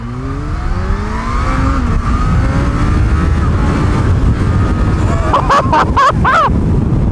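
A Kawasaki Z H2 supercharged naked motorcycle revs its engine as a street bike, a loud, steady roar with rising pitch sweeps, ending in several sharp throttle blips, heard close with wind buffeting.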